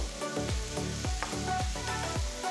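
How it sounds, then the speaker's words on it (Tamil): Onions sizzle and fry steadily in a hot pan, with rhythmic scraping thumps as they are stirred, close and continuous. "வெங்காயம் 2-3 நிமிஷம் நல்லா வதங்கட்டும்."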